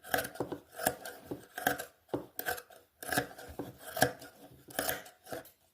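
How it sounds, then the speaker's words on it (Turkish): Scissors trim the excess fabric edges of a handmade sun-shaped pillow in a steady series of close, crunchy snips, several quick cuts in rhythmic bursts with short pauses between. "Şimdi kenarlarını kesiyorum. Fazlalıkları alıyoruz."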